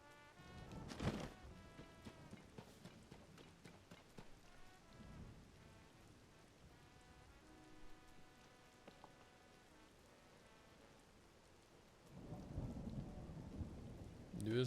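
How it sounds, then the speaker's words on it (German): Thunder and rain in the video game Zelda: Tears of the Kingdom: steady rainfall with a sharp thunderclap early on and rolling rumbles later, under faint game music, with no talk. "Blitz und Donner."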